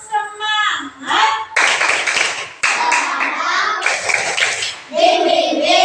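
Schoolchildren in a classroom perform a rhythmic spirit clap, bursts of patterned hand claps alternating with chanted voices, loud and close, in several short phrases.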